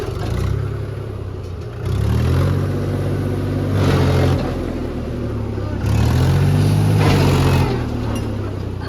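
A tractor engine runs close by during straw-making on a farm, with a deep, chugging rumble, its pitch rising and falling in a few surges of revving.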